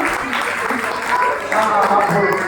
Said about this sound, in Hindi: हम जोरदार करते पंडित जी के लिए ताली बजाइए